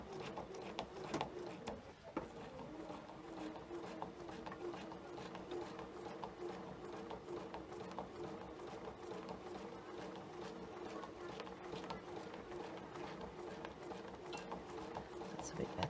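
A sewing machine stitches variegated thread along ruler lines, a faint, steady mechanical whir with a fast repeating hum that runs continuously at a low level, close by and without speech.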